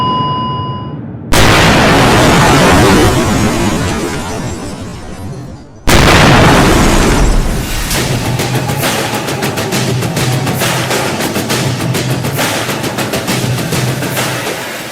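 Firecrackers go off loudly: two big bursts, then a long, rapid string of crackling pops that keeps going to the end.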